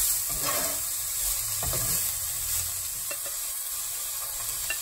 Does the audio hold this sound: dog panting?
no